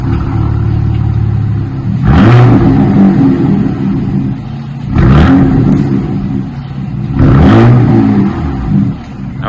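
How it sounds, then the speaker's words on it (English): A 2025 Ram truck fitted with a Flowmaster Super 10 muffler revs loudly three times over a steady idle, each rise in engine tone swelling and falling back, close by with no talk. "the Flowmaster deepens it up, gives it a nice tone to it."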